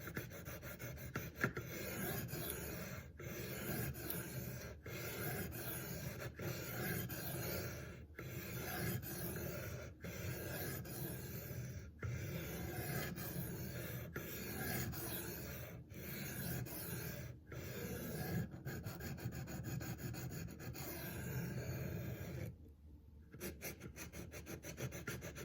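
Steady abrasive rasping of a Spyderco Sage 5 Lightweight knife bevel being sharpened, continuous strokes broken by brief regular pauses, close and fairly even in loudness, with no talking.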